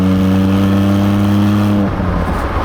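A Porsche 718 Cayman GTS with its 4.0L engine in Sport Plus revs hard, a loud, sustained mechanical tone holding steady before abruptly dropping off as the throttle is released.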